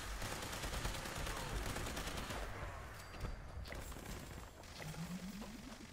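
Rapid video game gunfire in sustained bursts of automatic shots, fairly quiet and steady, with no talking over it.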